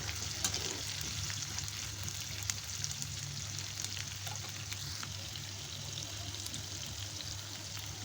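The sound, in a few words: prawns with prawn roe frying and being stirred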